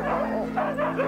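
A pack of huskies in rural snowy Jämtland, Sweden yips, whines and howls together in a loud, continuous, close chorus of overlapping high-pitched bow-wows and whimpers.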